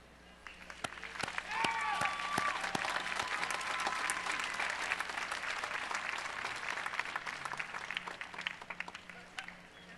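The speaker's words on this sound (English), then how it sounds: "Let's have one more round of thunderous applause for all these graduates." Commencement audience applauding graduates: a few scattered claps swell into a sustained wash of crowd applause with faint cheers, steady and moderately distant, tapering slightly toward the end.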